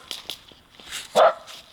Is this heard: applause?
no